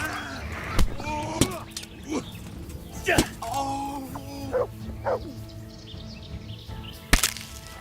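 Dog in the medieval Bohemia game Kingdom Come: Deliverance gives short yips and whimpers amid sharp impact cracks and scattered game noise, the yelps rising and falling in pitch over several seconds.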